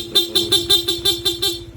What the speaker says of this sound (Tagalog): Sa busina ni Sir, ang nilagay po natin, PIA horn.